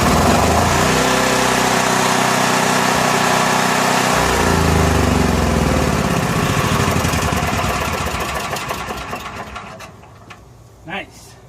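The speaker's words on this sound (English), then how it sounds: "So that's getting her running on the fuel tank." A Honda RV generator engine runs loud and close with a steady mechanical drone, then winds down and fades toward the end; voices can be heard over it.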